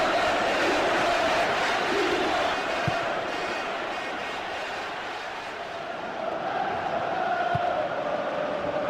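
Stadium crowd noise in a football video game, a loud sustained roar that swells and dips slightly, filling the scene continuously with no clear speech.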